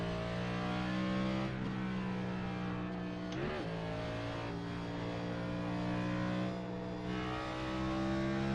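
NASCAR race cars lap at the Bristol Night Race, with a continuous layered engine roar and one car sweeping past with a rising and falling whine partway through. The sound is faint and distant, and no one speaks.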